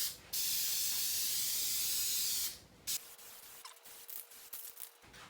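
Two long hissing bursts from a spray can coat a 1986 Ford 300 inline 6 engine, loud and close, followed by softer scraping and tapping sounds.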